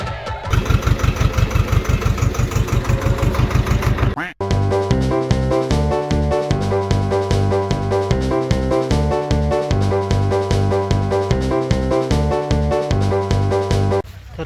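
A tractor engine chugs loudly in a fast, steady rhythm for about four seconds as the driver sets off, then cuts off abruptly to a steady, droning, patterned sound.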